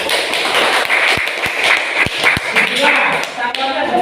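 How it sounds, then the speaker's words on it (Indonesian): A group in a coaching class applauds together, a loose wash of clapping with a few sharp taps standing out, mixed with voices that keep talking over it. "Tepuk tangan untuk kita semua."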